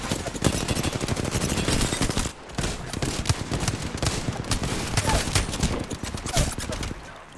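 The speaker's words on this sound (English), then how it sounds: "there was players shooting me from behind as well" Dense, rapid gunfire from players shooting in the Apex Legends video game, a loud continuous burst of overlapping shots running almost the whole time with one brief break.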